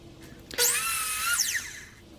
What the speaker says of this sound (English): here I believe I was ripping down or cutting down the forelegs